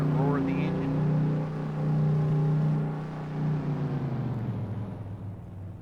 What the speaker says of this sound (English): Hear that roar of the engine.